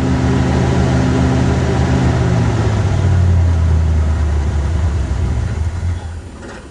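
A 1978 Mercury Grand Marquis engine runs after its choke is opened slightly, a loud close steady low drone whose pitch sags and settles midway as the idle slows, then fades slightly at the end, with no talk.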